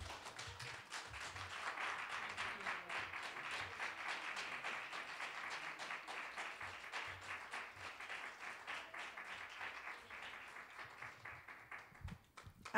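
An audience applauds after a lecture, with steady dense clapping sustained for over ten seconds at moderate distance that tapers off near the end, no talk over it.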